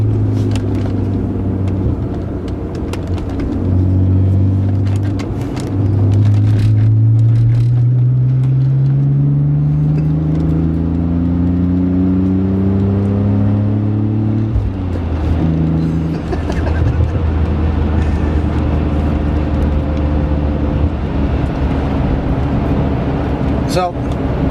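A BMW E46 325i inline-six rumbles and revs in rising sweeps, the engine note climbing and dropping several times with a steady drone between, heard close and loud from inside the car.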